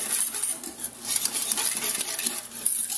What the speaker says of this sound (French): avec l'aide d'un fouet. On mélange pour faire enlever les grumeaux.